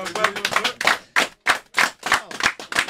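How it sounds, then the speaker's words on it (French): Audience at a French rap session applauding in distinct claps and bursts with short gaps between them, close and fairly loud, with a little voice mixed in. "On applaudit une dernière fois."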